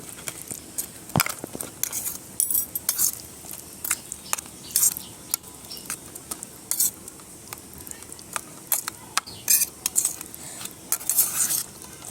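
Thankuni leaf mash being mixed with a little oil in a bowl for a bhorta, giving repeated close, wet squelching and clicking strokes with sharp scrapes against the bowl, steady and unhurried with no talking.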